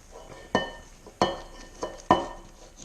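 Stirring divinity candy mixture with pecans in a bowl: a spoon knocks against the bowl about three times at a steady pace, with soft scraping between the knocks.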